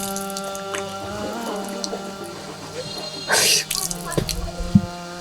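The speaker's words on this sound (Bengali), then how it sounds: "এবার আমরা অবশ্যই কুলি করব।" Running water from a tap during wudu, with the mouth being rinsed, a steady trickle with a louder splashing burst midway and a few drips and knocks near the end.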